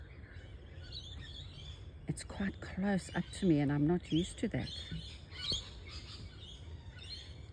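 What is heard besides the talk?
birds singing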